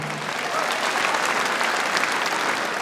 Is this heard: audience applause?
yes